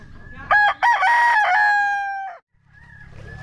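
An LDT Boston gamecock crows nearby: one long, loud crow with a clipped opening that trails off, then brief quieter clucking afterward.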